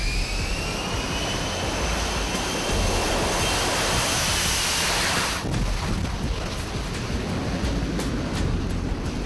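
F-35 stealth fighter jets in flight, a loud continuous broadband jet roar with wind buffeting that stays close and steady, easing slightly partway through.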